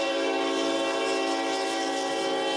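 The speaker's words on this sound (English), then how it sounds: "I finally got to hear a Heritage Union's horn. Isn't that amazing? Just listen to that horn." Sustained, loud chord of a Norfolk Southern heritage unit locomotive horn, one steady blast held the whole time with faint rail rumble beneath and no voices.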